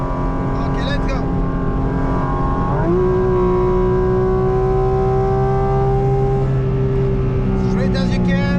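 A Porsche GT4 RS engine drones loudly in a racing simulator on the Nordschleife, with a sustained high rev that drops on an upshift and then climbs steadily. A voice talks over it.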